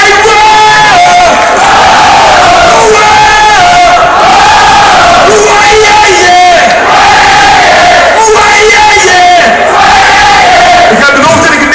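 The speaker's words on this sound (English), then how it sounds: "everybody in the house, come on, let me hear you say whoa!" A large audience at a band's reunion concert shouts a long chant of whoa in unison, rising and falling in repeated waves, loud and dense throughout, with no gaps between phrases.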